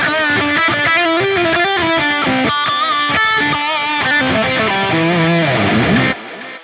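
Distorted electric guitar through a Hotone Ampero One with ping pong delay, loud sustained chords and notes echoing back and forth before cutting off near the end.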